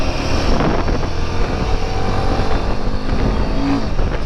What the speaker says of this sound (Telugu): ఇదైతే మన ఫస్ట్ రైడ్ అనమాట మన బైక్ మీద